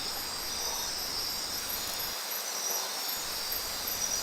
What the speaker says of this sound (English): In the dark, a whole population of reptiles and insects not seen by day come out to play